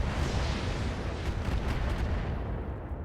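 Heavy mech weapon fire from the RogueTech BattleTech game, a dense continuous rumble of booming, artillery-like blasts with no clear gaps, loud and close throughout.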